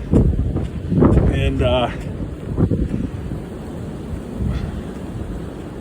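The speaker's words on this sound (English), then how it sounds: "you can probably hear the wind picking up" Gusty winter wind roaring across the microphone at Muskegon State Park, loud and buffeting in waves, with someone talking over it.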